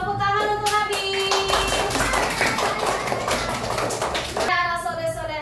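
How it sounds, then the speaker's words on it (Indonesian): Children in a classroom clap together for a boy named Nabil after his demonstration of the steps of wudu. The quick, dense clapping swells for a few seconds between soft musical tones that open and close the moment. "Tepuk tangan untuk Nabil"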